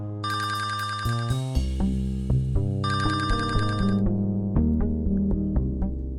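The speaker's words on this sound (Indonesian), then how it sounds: "Ada telepon." A telephone rings in two loud electronic trilling bursts separated by a pause, with music playing underneath.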